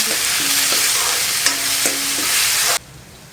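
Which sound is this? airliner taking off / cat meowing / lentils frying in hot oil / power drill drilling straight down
lentils frying in hot oil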